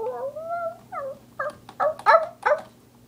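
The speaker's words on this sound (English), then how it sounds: "Dog on the hunt." A dog in a Hunger Games video game, heard as a series of short whining yelps and whimpers rising in pitch, close and clear against a quiet background with a low steady hum.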